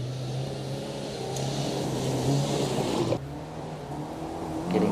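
A front-wheel-drive Toyota Corolla rally car drives through a rally sprint stage, its engine a steady moderately distant drone that holds on and then shifts abruptly as the car changes gear or passes.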